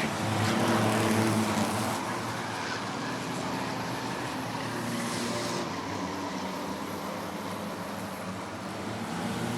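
Stock cars in the Original Sixers feature at Rockford Speedway roar around the oval as a continuous, distant engine drone with a slight swell, no distinct passes standing out.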